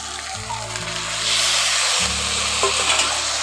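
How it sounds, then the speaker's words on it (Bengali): Mushrooms frying in spiced oil and being stirred, giving a steady close sizzle with a low hum underneath and brief scrapes of stirring, with no voices. "মাশরুমগুলো দিয়ে একটু নাড়াচাড়া করে একসঙ্গে ভেজে নিচ্ছি"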